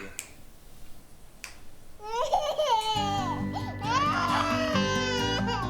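Baby crying in a film trailer, a wavering infant wail rising over soft background before swelling music joins underneath, loud and close.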